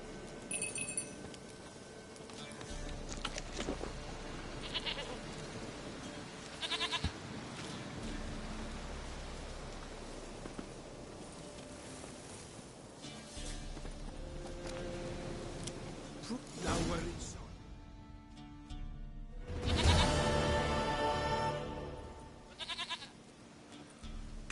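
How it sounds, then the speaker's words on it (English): In The Witcher 3, a goat bleats several times among farmyard sounds, with clinks and bursts of ambient game noise. A voice speaks at points across the scene. "Goat of mine, dearest, sweetest goat."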